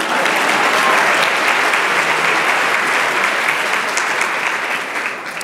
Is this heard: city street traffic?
no